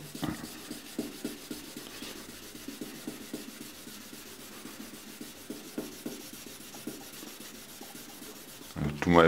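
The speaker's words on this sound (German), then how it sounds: "Und 2000er Schleifpapier und ein bisschen sauberes Wasser. Und jetzt schleifen wir das erstmal eben." A sanding block with 2000-grit wet sandpaper and clean water rubs over car paint in steady, soft back-and-forth strokes, close and fairly quiet, ending with a brief louder noise.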